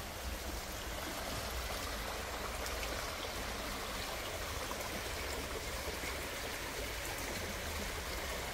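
Continuous rushing of a river flowing in Germany, a steady broadband watery hiss with no pauses, fairly close and even in volume throughout.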